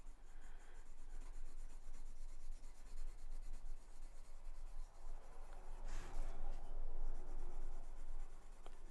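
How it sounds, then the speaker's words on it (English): A pencil held at an angle shades big circles on paper, making a continuous soft scratching and rubbing at close range that swells briefly louder partway through. "I'm going to take my pencil at that 3/4, do big circles and kind of fill in"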